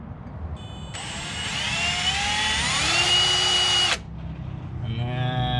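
A power drill bores into a broken car lug nut, whining loudly and steadily for about three seconds with a rising, shifting pitch, then stopping abruptly before spinning briefly again.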